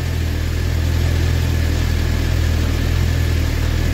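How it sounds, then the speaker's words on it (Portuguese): A Suzuki GSXR750 motorcycle engine, misfiring and awaiting new spark plugs, idles steadily at just over 1000 RPM. It gives a constant low rumble close by with no speech. "Pouco acima de 1000 RPM por hora."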